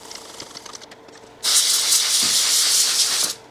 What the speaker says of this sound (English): I'm gonna go ahead and spray some isopropyl alcohol